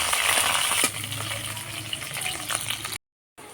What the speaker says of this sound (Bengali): তেল গরম হয়ে গেছে, এরপরে এই যে আমি কেটে রাখা আলুগুলো ভেজে নেব।